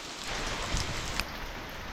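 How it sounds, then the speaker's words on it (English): Pouring rain over an open field during metal detecting, a steady dense hiss of drops with a couple of louder splats, close and continuous. "we got chased out of that field in the pouring rain"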